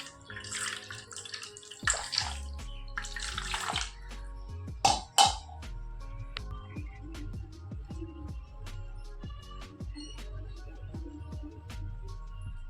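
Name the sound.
water poured while bathing Gopal deity idols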